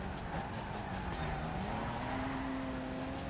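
Hot Wheels cars racing in a video game, with a continuous engine whine rising in pitch and tire squeal over a dense roar, fairly faint.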